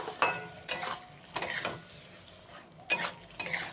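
Potatoes and masala with salt are stirred in a pan, with repeated scraping strokes of a spatula against the pan over a low sizzle, several bursts in uneven rhythm, close and clear, with no speech.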